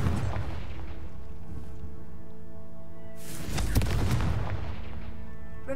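A Confringo fire spell bursts in a Harry Potter video game, a loud booming blast swelling midway through over steady game ambience and a low background drone.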